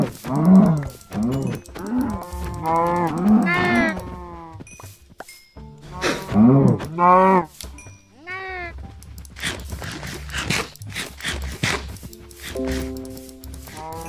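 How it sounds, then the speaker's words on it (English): Cows mooing in the video game Minecraft, several drawn-out bovine calls in a row, loud and close, with short gaps and some game sound effects between them. "Cows breathing"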